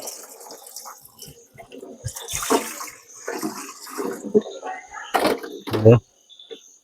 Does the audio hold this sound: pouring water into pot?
yes